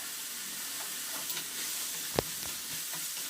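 Spices fry in oil for bisibele bath with a faint steady sizzle, joined by a few soft stirring scrapes and one sharp clink near the middle.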